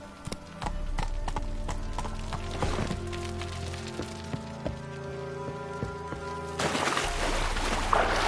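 Hoofbeats of the horse Roach galloping in The Witcher 3, a steady clip-clop with rain pattering on surfaces behind it and a brief snort or whinny near the end.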